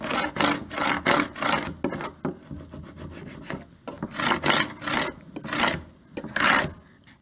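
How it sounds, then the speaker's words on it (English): A scraper tool rubbing firmly over transfer tape on a wooden board, a steady series of loud, close scraping strokes in repeated bursts with no talk. "And now I can use my scraper tool to burnish it onto the board."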